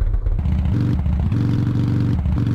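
A motorcycle in the video game Real Bike Stunt revs hard on a ramp, with a loud, close, throbbing low engine note that pulses steadily and rises in bursts.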